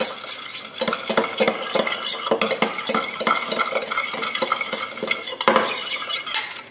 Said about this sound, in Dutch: Meng hem goed door elkaar.